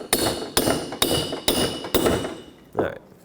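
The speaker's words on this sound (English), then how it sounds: "I'm going to give it a couple whacks with the hammer." A hammer strikes a wheel hub stud on a 2003-2021 Chevrolet Express 3500 van, five sharp metallic whacks at an even pace followed by a lighter sixth tap after a pause.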